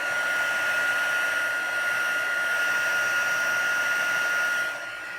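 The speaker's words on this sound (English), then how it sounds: "heat tool." Crafting heat tool blowing hot air for paper crafts: a steady, close, whining whoosh with a high tonal hum, holding constant and easing slightly near the end.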